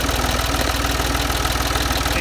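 A Ford 2000 tractor's diesel engine runs steadily at idle, its close, loud chugging firing pulses beating in an even rapid rhythm throughout with no speech.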